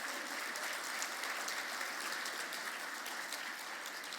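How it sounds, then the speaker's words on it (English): A room full of people clapping steadily, a dense, even wash of applause at moderate distance with no pauses. "How about a big round of applause for Ramiro?"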